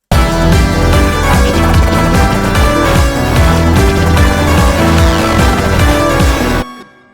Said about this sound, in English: the final trick up my sleeve, the Ringshifter synth